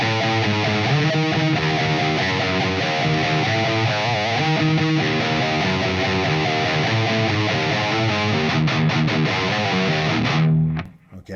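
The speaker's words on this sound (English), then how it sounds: "let me play through the riff really slow, just that first half." A distorted electric guitar riff played slowly on a two-string setup, heavy and sustained with chugging palm-muted notes, loud and steady until it cuts off near the end.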